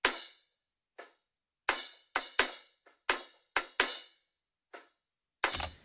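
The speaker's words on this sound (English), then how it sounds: "So with this D12, I've pulled all of the low end out, and it's just a high end sort of knocky sound." A kick drum on a 26-inch drum, picked up by a D12 mic set out in front of the head with the low end cut, gives about a dozen short, dry, clicky knocks in an uneven pattern, fairly quiet and alone.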